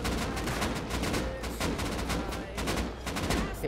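Rapid bursts of gunfire from bolt-action rifles during a clan counter-raid in the video game Rust, sharp overlapping shots cracking repeatedly over a dense, loud backdrop.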